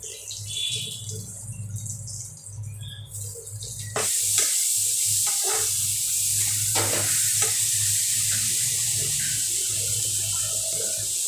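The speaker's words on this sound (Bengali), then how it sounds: "এবারে রসুনগুলো দিয়ে দেবো।" Garlic hits hot oil with a sudden loud sizzle that keeps frying steadily, with a few scrapes and clinks of stirring over a low background hum.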